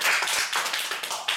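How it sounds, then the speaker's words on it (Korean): A short burst of applause from participants at a student workshop presentation, brisk clapping that lasts about a second and a half. "박수 큰데."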